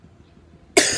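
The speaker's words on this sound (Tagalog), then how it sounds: "Sige, ubo pa." A person gives a single sharp cough on request near the end of a brief quiet moment, loud and close, with no talk over it.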